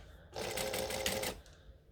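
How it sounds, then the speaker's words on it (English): A sewing machine chain stitching fabric pieces of a sleeveless top, a quiet, close, rapid mechanical whir lasting about a second before stopping. "I'm just going to bring this over and chain stitch them together"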